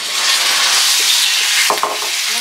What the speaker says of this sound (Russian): я сейчас мясо кину на сковородку, оно будет шипеть